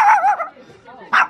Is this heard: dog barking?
yes